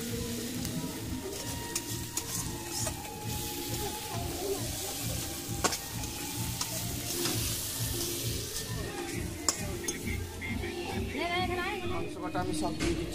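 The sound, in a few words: frying spices in a wok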